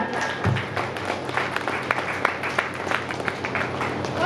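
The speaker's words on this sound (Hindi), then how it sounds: "जोरदार तालियां" Audience applause at a Hindi kavi sammelan (poetry gathering), a steady spread of clapping from a crowd that runs through the whole stretch at moderate level, with a faint murmur of voices underneath.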